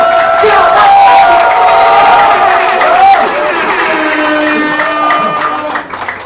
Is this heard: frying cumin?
no